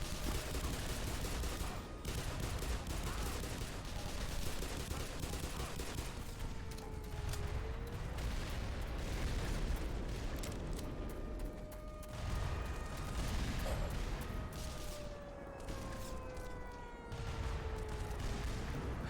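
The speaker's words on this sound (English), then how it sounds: "Who's shooting at me?" Sustained gunfire and distant explosive booms in the video game Black Mesa, chapter Blast Pit, a continuous barrage of shots layered over a rumbling game soundscape.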